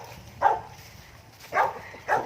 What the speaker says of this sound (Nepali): यहाँ हेर्नुहोस् कुकुर होइन